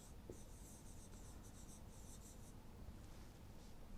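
A pen writing on a surface during a marketing lecture, quick scratchy strokes in short bursts for about two and a half seconds, then quieter, faint and close, with no talking.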